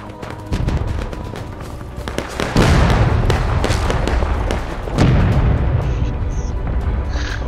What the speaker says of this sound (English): They're like clustered on rocks, pounding them with artillery